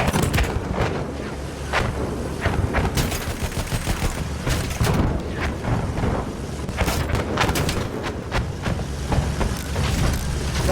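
Rapid bursts of anti-air turret fire in Battlefield 1, a dense stream of sharp cracks and booms over a constant low rumble, close and loud throughout with no talk.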